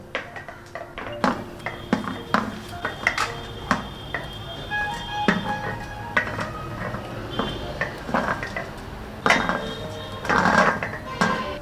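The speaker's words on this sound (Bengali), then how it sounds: "এবার আমি এর মধ্যে চিকেনগুলো একে একে দিয়ে দিচ্ছি" Chicken pieces dropped one by one into a pot of simmering sauce, with repeated clinks and knocks of pot and utensils in an irregular rhythm, close and clear, with faint talk now and then.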